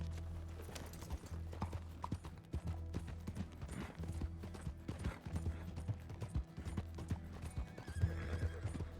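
A horse in a video game gallops with a steady rapid clip-clop of hooves and neighs, the sound fairly quiet and continuous.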